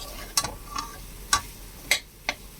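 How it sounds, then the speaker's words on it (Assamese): Potato pieces frying in a pan with turmeric and salt for a vegetarian Assamese potato curry, heard as a quiet low sizzle broken by about five sharp clicks of a spatula stirring against the pan. "ইয়াত নিজৰ জোখমতে হালধি নিমখ দি পিনে ভাজি আছোঁ"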